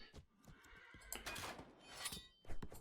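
Horses whinnying and neighing amid clattering cavalry combat in the strategy game 0 A.D., with several overlapping calls and busy clip-clop and impact noises filling the battle soundscape, with no speech.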